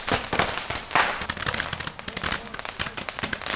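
Fireworks crackle and pop in dense, rapid bursts after an Our Lady of Sorrows procession, a loud continuous barrage of sharp reports with no talking over it.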